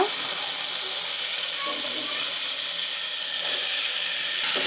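Capsicum fries in oil in a pan alongside potatoes, giving a steady, close, bright sizzle and hiss that holds evenly throughout.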